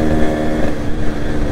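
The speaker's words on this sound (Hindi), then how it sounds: "ऐसे ही चल रही बाइक" A Yamaha RX motorcycle engine runs loud and close, a dense, steady rumble with no clear revving, heard alone without voices.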